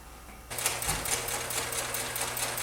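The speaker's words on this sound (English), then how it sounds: "We're going to stitch a 1/4 inch seam." A sewing machine starts abruptly and stitches a quarter-inch seam on a mug rug with a fast, even rattling hum, loud and close.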